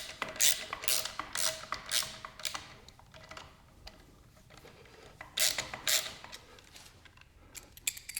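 A hex drive bit driving screws into a VEVOR demolition jack hammer during setup, heard as repeated bursts of whirring and ratcheting clicks with short pauses between them, close by, with no talking.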